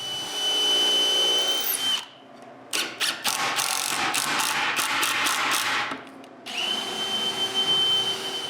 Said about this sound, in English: I mark the center of the separator and drill 4 screws.